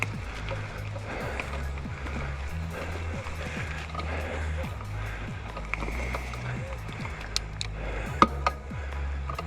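An Axum DP mountain bike riding up over tree roots on a trail, giving a steady close rumble of tyres and drivetrain with scattered clicks and knocks from the bumps, and a few sharper taps near the end.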